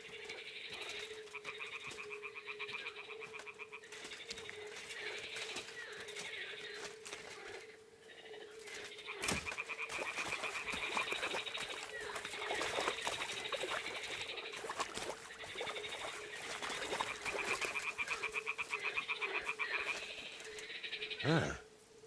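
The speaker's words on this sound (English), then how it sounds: "the toads are croaking here" Toads croaking in a medieval video game world, a steady chorus of rhythmic croaks with a constant hum beneath, fairly faint, with a sharp knock partway through.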